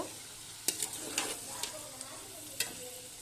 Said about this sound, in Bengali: সবজিটা একটু ভালো করে ভেজে নেব।